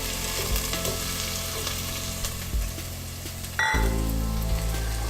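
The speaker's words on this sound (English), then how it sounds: "add the garlic and ginger mix if you're using the ginger, and stir that in" A garlic and ginger mix is stirred into onions frying in a pan for a Fiji-style pumpkin curry, with a constant close sizzle, scraping stirs, and a louder burst of frying near the end.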